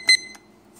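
A Glovion digital kitchen cooking timer gives a couple of short, sharp electronic beeps as its stop button is pressed, close and clear in a quiet room.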